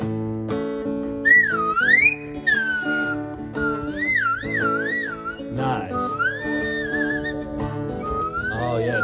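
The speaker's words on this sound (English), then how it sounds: "Jazz whistle, let's go." Bright, melodic whistling swoops and trills through a jazzy tune over a backing of sustained instrumental chords.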